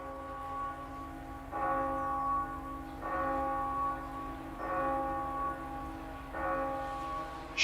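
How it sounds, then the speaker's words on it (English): A bell struck four times at an even pace, each ring sounding out a clear pitched tone that hangs and fades before the next, heard alone during a motorsport broadcast of the Ginetta Cup at Silverstone. "Let's ring the bell of shame for Gerard."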